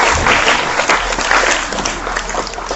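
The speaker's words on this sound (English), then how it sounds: "Let's let them hear it with a nice big round of applause." Loud, dense applause fills a county fair and rodeo market goat show arena after the grand drive, a sustained crowd of clapping that rolls on without a break.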